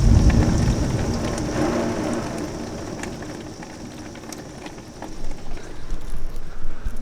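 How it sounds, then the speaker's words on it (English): Steady heavy rain pours during a Kansas thunderstorm, with a low rumble of thunder rolling underneath and swelling again toward the end. "gotta love a good Kansas storm"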